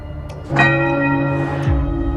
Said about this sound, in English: Who's ringing the bell?